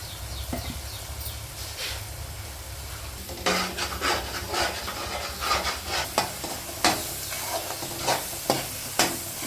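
Masala with coriander powder and turmeric frying in oil for a fish curry, a steady soft sizzle with repeated scraping stirs that grow louder and more frequent in the second half, close and without talk.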